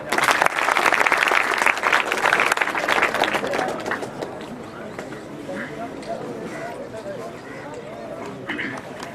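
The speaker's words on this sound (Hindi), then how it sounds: "तालियां बजा दें।" Audience clapping at a college farewell program, a dense crowd applause that is loud at first and then fades to a softer, thinner patter over several seconds.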